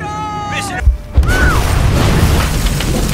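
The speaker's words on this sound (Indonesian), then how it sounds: "membuat gas copot sehingga terjadi ledakan" A sudden heavy boom from a gas explosion bursts out after a brief quiet, followed by a sustained loud rumbling roar, with a faint voice-like tone just before the blast.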